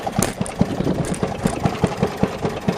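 A Maytag Model 92 washing machine engine idles roughly, barely running, with a steady low putting rhythm of evenly spaced thumps, close and fairly loud.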